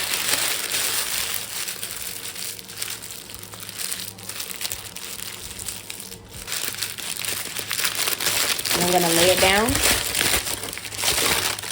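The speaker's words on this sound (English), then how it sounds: "I like to crumple it up." Parchment paper is crumpled up by hand while preparing artisan sourdough bread, giving a continuous crackling crinkle that grows louder toward the end under a person talking.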